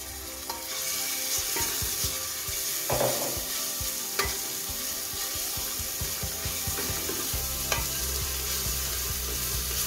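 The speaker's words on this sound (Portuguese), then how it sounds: "eu vou começar a refogar o alho" Garlic sautéing in oil in a pan, a steady close sizzle with scattered clinks and scrapes of a stirring utensil against the pan, continuous throughout with no talking.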